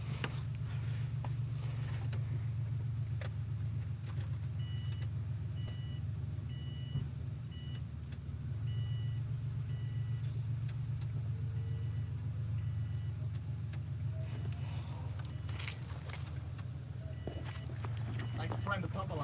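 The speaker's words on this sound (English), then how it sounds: "You get behind it, you get the Subi rumble." Low, steady rumble from a damaged $1K Subaru WRX's exhaust, heard from behind the car, runs the whole time, with people talking over it.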